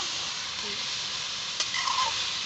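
Vegetables fry in mustard oil in a kadai with a steady, even hiss of sizzling that holds at moderate level throughout, a faint clink and a brief stir near the end, outdoors in a village setting.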